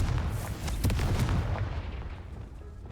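Confringo blasting spell explosion in Hogwarts Legacy, a deep booming blast with a crackling burst that swells and then fades away over a few seconds, heard alone.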